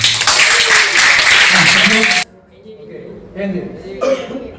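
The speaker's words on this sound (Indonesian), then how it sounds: "Tepuk tangan untuk SMP 75." A school crowd at a junior high school in Jakarta applauds loudly for about two seconds, then breaks off abruptly, followed by brief murmurs and a short burst of voices.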